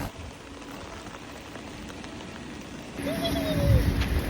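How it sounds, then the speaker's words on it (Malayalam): Heavy monsoon rain falls outside a home in Germany, a dense, steady hiss that swells slightly louder toward the end, with no one talking. "ഭയങ്കര മഴയാണ്."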